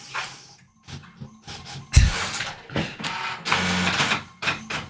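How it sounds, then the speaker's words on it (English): A printer running in the background: several short mechanical whirring and clunking bursts with gaps between them, moderately loud and close, with no talk over it. "you can hear the printer in the background"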